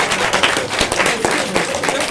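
Clapping from an audience at an artists' lecture, a brief burst of scattered, uneven claps close by with a few louder individual hits mixed with murmuring voices.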